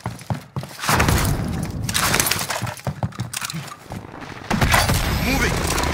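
Cluster strike explosions in Call of Duty Warzone erupt as a dense barrage of loud cracking, crashing bursts and thuds, rolling continuously and close, with faint game voices mixed in.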